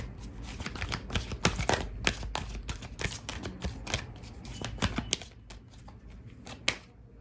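Tarot cards are shuffled by hand in a rapid series of crisp riffles and slaps, busy and close for about five seconds before thinning to a few sparse taps.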